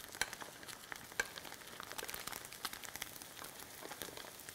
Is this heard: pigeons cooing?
no